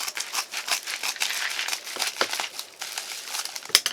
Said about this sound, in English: I know what I'm cutting. I'm double bagged with this one.